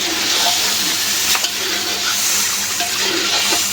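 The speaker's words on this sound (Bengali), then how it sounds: "এখন এই যে মাছটা দিয়েও কষাই নেব।" Fish fried in a spice paste sizzles in a pan, a steady loud hiss with faint scraping and stirring, close up in a kitchen.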